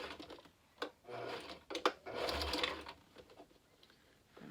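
A sewing machine back stitching a ruffle on a rococo cosplay dress, giving a few short whirring runs of rapid needle ticks broken by pauses and clicks, close and moderately loud.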